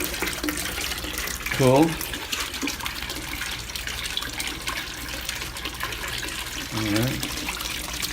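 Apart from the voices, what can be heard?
patio pond water flowing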